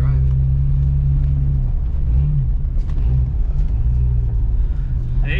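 A red Jeep Cherokee XJ engine rumbles steadily up close as it heads off road through a muddy field, with low engine drone and slight pitch shifts under people talking.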